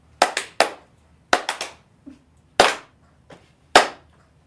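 Hands clap slowly and unevenly, a few sharp, close claps with gaps between them, some in quick pairs, against a quiet background.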